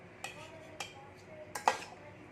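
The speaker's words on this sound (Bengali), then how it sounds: "এবার আমি একটা বাটিতে তুলে নিচ্ছি।" A spoon scraping and tapping against a bowl as a dish made from leftover rice is served, with four or five faint, sharp clinks spaced apart in a quiet room.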